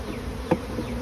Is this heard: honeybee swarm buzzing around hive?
yes